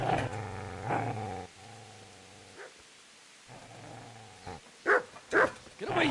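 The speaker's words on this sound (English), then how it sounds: "Get away, you mutt!" Dog growling in the video game Kingdom Come, low rumbling snarls near and loud, broken by short pauses, ending with a few sharp barking yelps.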